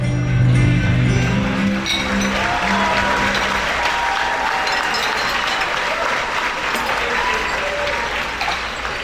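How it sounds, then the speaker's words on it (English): An audience at a cooking competition applauds with steady clapping that carries on throughout, while a voice briefly sounds over it at the start. "I'm going to give a round of applause again for Jamal"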